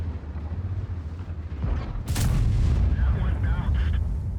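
A tank cannon fires in a tank combat video game, one heavy loud boom about midway over a low rumbling engine drone, followed by mechanical clatter.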